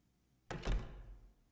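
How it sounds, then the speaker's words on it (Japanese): A door sound effect in the pixel horror game Witch's House: a single sudden thunk of a door opening or closing, close and fairly loud, decaying over about a second with no talk. "ドア。"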